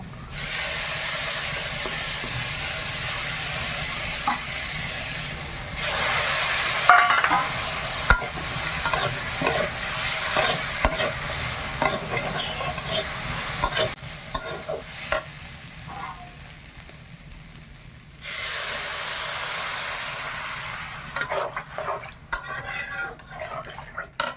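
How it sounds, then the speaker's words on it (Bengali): Mustard seeds and cumin frying in a pan for a home-cooked village meal, with loud hissing sizzle that swells and fades alongside repeated stirring scrapes and clinks of utensil on metal, close by with no talk. "এইবার মশলাটা দিয়ে দেবো, সরষা আর জিরা"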